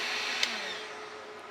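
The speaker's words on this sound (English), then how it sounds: "the fans are slowing down and turning off of the inverter" Cooling fans of an AMPINVT 12V 2000W inverter/charger spinning down after switch-off, a soft steady whir slowly fading, heard alone at close range.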